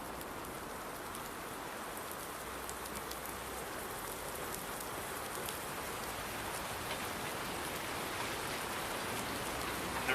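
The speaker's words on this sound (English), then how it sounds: "Here comes the rain." Steady rain falls in the Farm Sim 19 video game, a continuous hiss of drops hitting surfaces at an even, moderate level with no other sounds.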